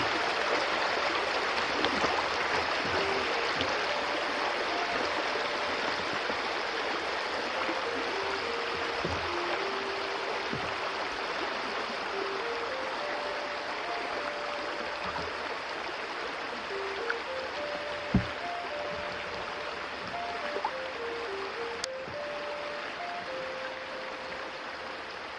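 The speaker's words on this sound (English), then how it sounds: "That's a pretty good flowing spring right here." Spring water flows into the Santa Fe River, a steady close rush that continues unbroken, with a faint tone drifting above it and a few soft knocks.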